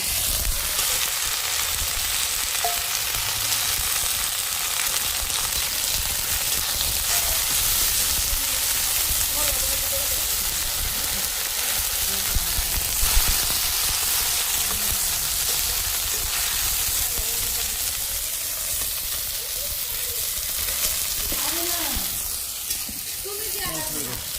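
Pumpkin flowers and green chillies sizzle steadily in a frying pan, a dense, continuous hiss with occasional stirring scrapes, close and fairly loud throughout.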